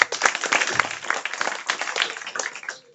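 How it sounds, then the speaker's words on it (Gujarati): A gathered group claps for a speaker after her presentation, a brisk patter of many hands close by that runs steadily and then trails off into quiet. "બરાબર, તાળી પાડો એકવાર હજી"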